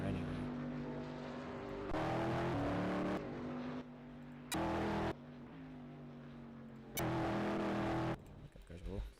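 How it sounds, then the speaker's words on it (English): Engine noise from racing cars in a video game rises and falls in loud, steady passes, with a voice speaking underneath. "I see some cars are doing laps around me as I"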